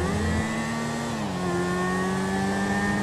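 A car accelerates during a chase in Grand Theft Auto V, its engine droning and climbing in pitch with a strong steady whine that shifts gear once, loud and close throughout, with no talking.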